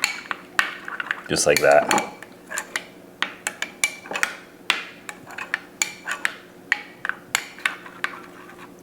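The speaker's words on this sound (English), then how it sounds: "I'm just gonna give it a good stir." A spoon clinks and scrapes around a bowl while stirring shrimp cocktail sauce made with ketchup, giving a quick, busy burst of metallic taps followed by a steady run of sharp, evenly spaced clicks, close and clear, with a brief spoken remark.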